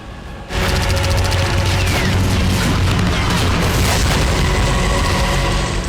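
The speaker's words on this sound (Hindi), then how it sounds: "बारूदी धमाकों से कांपती जमीन और धुआं धुआं आसमान" Explosions in the Nagorno-Karabakh war zone begin suddenly after a brief quiet and become a loud, continuous roar of booming blasts that fills the whole stretch.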